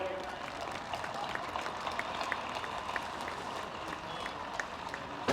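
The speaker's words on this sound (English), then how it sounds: "Round of applause for Carnew." Steady applause from a crowd at a hurling final, clapping evenly throughout at moderate distance without letting up.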